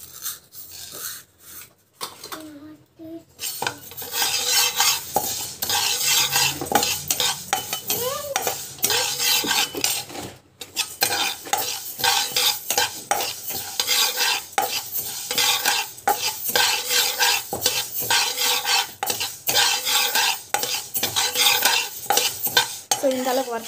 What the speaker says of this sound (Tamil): ஸோ வெந்தயம் வந்து வறுத்துக்கிறேன்